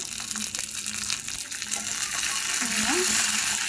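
Vadagam and cumin seeds sizzle and crackle in hot oil in a pan while cooking ponnanganni keerai kootu, a steady close frying hiss that grows slightly louder, with a voice talking faintly over it.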